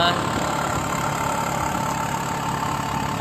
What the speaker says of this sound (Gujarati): આ રિક્ષાની ભૂંગળી વધારે બોલે